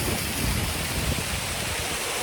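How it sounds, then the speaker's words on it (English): A small forest waterfall pours with a steady, broadband rush of falling water, close and fairly loud, continuous without pauses and with no voices over it. "Let's follow this little waterfall down."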